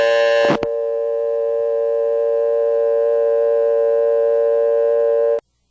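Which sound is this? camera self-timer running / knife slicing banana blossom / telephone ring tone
telephone ring tone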